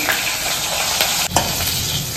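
Hilsa fish frying in a pan, a loud, continuous, close sizzle with a brief stirring disturbance midway and no voices.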